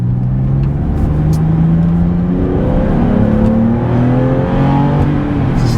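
A Porsche 911 (996) engine revs and accelerates steadily, its rising harmonic whine shifting through gears, loud and close throughout.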